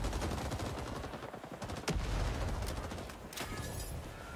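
Fully automatic gunfire rattles in Rising Storm 2: Vietnam as a rapid, dense stream of shots with a few sharper cracks standing out. The fire is loud and continuous, with explosive game ambience underneath.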